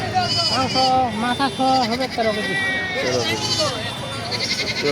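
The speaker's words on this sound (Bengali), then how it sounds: "দর্শক দেখেন কত সুন্দর সুন্দর ছাগল আপনার দেখালাম" Several goats bleat repeatedly at a market, close and loud, their wavering cries overlapping, with people talking in the background.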